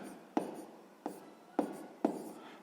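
A pen writing a fraction calculation on paper, four distinct taps of pen strokes spaced about half a second apart, each trailing a soft scratch, close and alone.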